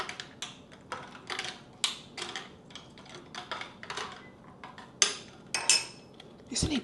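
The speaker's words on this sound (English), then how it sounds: "some mango puree. Give it a good stir." A spoon stirs mango puree into tea in a cup, making rapid, close clinks and scrapes in an irregular rhythm that runs throughout with no talking.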